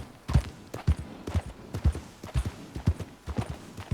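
Horse hooves in Red Dead Redemption 2 as a summoned horse arrives, a steady clip-clop trot of regular muffled hoofbeats on the ground, moderately close and continuous with no talk.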